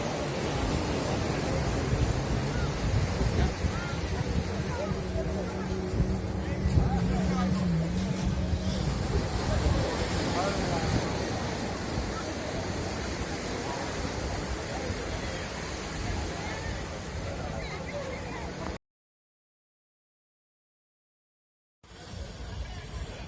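Sea waves wash ashore at Baga Beach in Goa, a broad steady roar of surf with wind, close and continuous, briefly cutting to silence near the end before resuming; a voice speaks faintly underneath.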